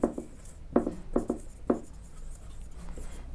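Notes are written on a board, with several distinct, close tapping and scratching strokes in an uneven rhythm, then a quieter stretch.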